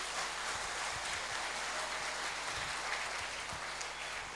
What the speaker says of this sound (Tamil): இப்போ உங்களை கைதட்டுன்னு சொல்லலை, ஆனால் நீங்களா தட்டுறீங்க பாருங்க